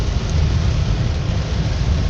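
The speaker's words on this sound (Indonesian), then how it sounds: "Ternyata masih hujan lebat." Heavy tropical downpour as a steady, dense roar of rain, loud and unbroken throughout with no voices; no distinct thunder stands out.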